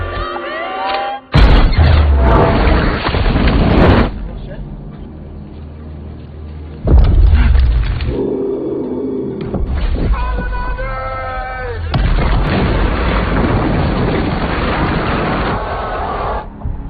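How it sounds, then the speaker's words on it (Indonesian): Workers blast a mountain during excavation. Loud, deep explosion booms strike at least twice, each followed by heavy rumbling, with dramatic tonal sounds between and after the blasts. "para pekerja sepakat untuk meledakkan gunung tersebut. Dan setelah ledakan itu terjadi,"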